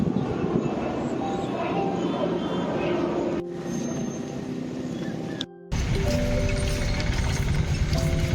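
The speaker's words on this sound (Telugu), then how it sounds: "ఫ్లైట్ వెళ్తుందండి. పక్కనే ఎయిర్పోర్ట్ ఉన్నట్టుంది." A loud, steady aircraft roar rumbles overhead near an airport without pause, dropping out briefly near the end before returning at full strength.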